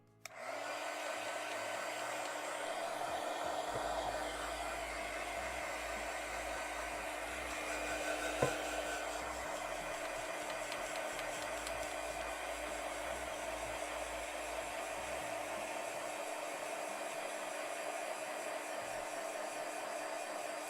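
Hair dryer blowing steadily on a colored pencil drawing, a constant whirring hiss running the whole time with a faint knock midway, no voices.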